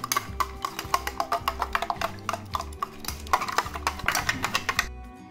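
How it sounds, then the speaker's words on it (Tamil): A spoon stirs beaten eggs with chili powder, turmeric and salt in a bowl for an egg chapathi breakfast, making quick rhythmic clicks and scrapes against the bowl, close and steady, with no voice. "இதெல்லாம் சேர்ந்து நல்லா கலக்கி தரணும்."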